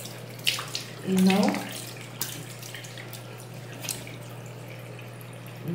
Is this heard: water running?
yes